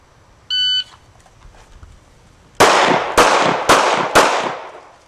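A workout timer gives one short steady high beep, followed after a pause by four loud sharp bursts at roughly half-second intervals, close and with no talk.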